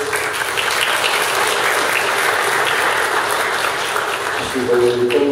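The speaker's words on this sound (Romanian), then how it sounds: "Vă rog să îi aplaudăm tuturor pe comentarii de și de astăzi" Sustained, dense audience applause at a national cybersecurity conference, steady and loud throughout, thinning slightly near the end as a voice begins to speak.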